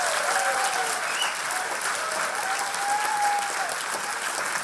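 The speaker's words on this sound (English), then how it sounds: "please give a massive round of applause to Professor Lance Workman" Dense, sustained audience applause welcoming a guest professor at a live comedy podcast show, a loud continuous roar of many hands clapping with faint cheering mixed in.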